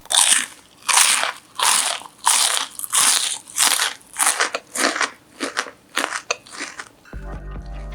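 Crispy fried garlic tofu is bitten repeatedly up close, about a dozen loud dry crunches in a steady rhythm, followed by a short burst of music at the end.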